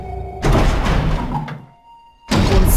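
Heavy door opening in Resident Evil HD Remaster: a loud, rumbling thunk that swells and sustains, then dies away into near quiet before a second loud surge of sound, with no talking.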